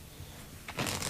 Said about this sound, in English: Give the cards a shuffle, and then a cut.